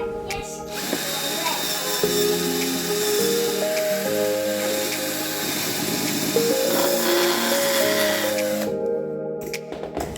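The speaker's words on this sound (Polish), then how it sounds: "Nawiercam otwory, tak żeby móc e, w prosty sposób umieścić wkręty." An electric drill bores screw holes for mounting an LED lamp strip, its motor whining continuously and close by for most of the stretch, the pitch rising and falling as the bit works.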